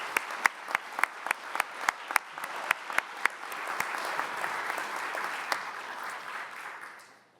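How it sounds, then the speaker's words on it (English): A round of applause at a community awards ceremony, opening with a few sharp nearby claps that build into a broad wash of crowd clapping, then fading out at the end. "I'd love to give a big round of applause to everyone who is working in this vital area."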